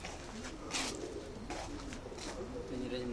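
Racing pigeons coo in low, throaty bursts during a pigeon-flying contest in Jeddah, Saudi Arabia, the calls fairly close and repeated, with voices talking in the background.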